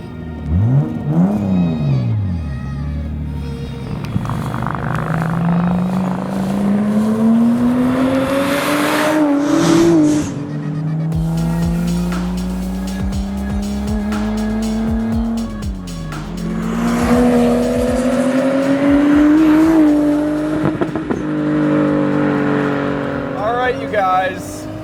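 A Nissan Skyline R34 GT-T with its turbocharged RB25DET engine accelerates hard through the gears, the revs climbing and dropping at each shift, heard loud from inside the car with occasional talk over it.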